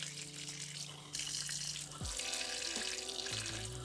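Water runs from a tap into a sink at home, a soft hiss and splash in the background with a few shifting tones and gurgles as the flow changes.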